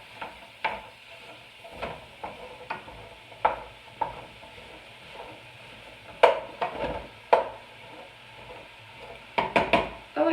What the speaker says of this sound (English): I already have my hamburger in my pot, and I'm just starting to brown it now